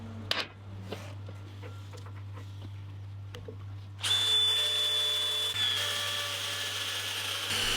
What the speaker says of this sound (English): we can start drilling the pin out to the final size